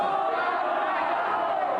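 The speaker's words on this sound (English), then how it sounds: "your fans are cheering you on" A crowd of fans roars and cheers continuously for a contestant's final jump, a dense, loud, sustained wall of voices with no pauses.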